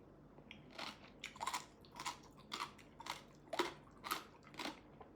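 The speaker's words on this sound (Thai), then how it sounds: "น่าจะได้ยินเสียงผมเคี้ยวนะ เนื้อเขากรอบมากอ่ะ" Crunchy shredded green papaya salad (som tam, sweet style) chewed close to the mic, about nine crisp, crackling bites in a steady rhythm with no talking.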